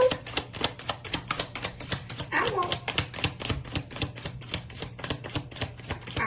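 Brand-new, slippery tarot cards shuffled in a steady rapid rhythm of crisp, close clacking flicks, with a brief voice murmuring partway through.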